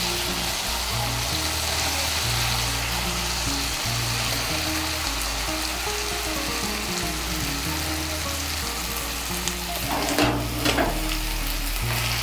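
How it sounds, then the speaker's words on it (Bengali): Grated kakrol, a spiny gourd, fries in a pan with cooked-down spices and is stirred through them, giving a steady close sizzle with scraping strokes throughout and a few louder clatters near the end. "এখন এর মধ্যে দিয়ে দেবো গ্রেট করা কাঁকরোল।"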